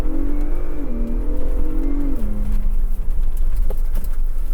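A Ford Bronco Raptor drifts on dirt, its engine droning loudly and shifting pitch as it revs and slides, with gravel crunching and scattering beneath the tires.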